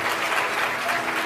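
An audience at a Hindu religious discourse claps steadily in a brief, dense burst of applause.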